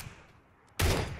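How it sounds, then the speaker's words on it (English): A blast from a Winchester pump shotgun in PUBG erupts loudly after a quiet stretch, one sharp heavy report with a ringing tail, with no speech over it. "I tapped him twice with a Winchester."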